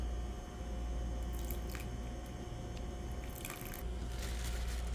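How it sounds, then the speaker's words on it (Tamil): Idli batter, thinned with a little added water, is stirred in a vessel, giving soft wet squishing and sloshing sounds heard close over a low background hum, with no talking. "சேர்த்துக்கிட்டு நல்லா இதை கிளறி விட்டுக்கலாம்"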